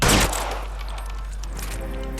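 A single loud gunshot in the video game L.A. Noire, a sharp close blast that decays into a ringing tail.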